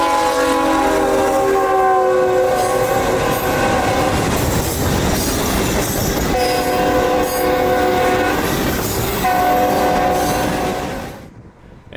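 An SD23T4 locomotive hauling a work train rolls past with two horns blaring at the same moment in long sustained blasts over rumbling wheels and rail clatter, fading away at the end.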